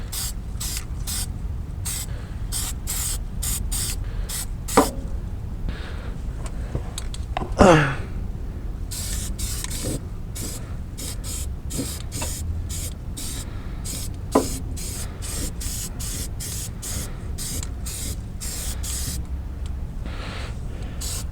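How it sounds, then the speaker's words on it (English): Aerosol spray can coating rust on a van's underbody, short hissing bursts repeated in a steady rhythm, close and fairly loud, with a few faint clicks and knocks between sprays. "like spray around a large area, which I'm pretty sure you're supposed to do"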